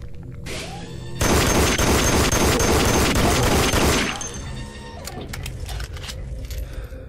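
Gunfire in the VR shooter Dead Effect 2: a dense, loud burst of rapid shots lasting about three seconds, followed by quieter scattered clicks and clatter.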